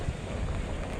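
Strong wind on a beach in the Philippines roars and buffets the microphone in a steady, dense rush of noise.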